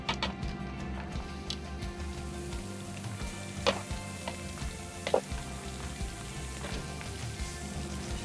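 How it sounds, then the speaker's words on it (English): Pork chops searing on a Hasty Bake charcoal grill, a steady soft sizzle with a few sharp pops and crackles, fairly quiet and close. "We're going to get a good char, a good sear on the front end"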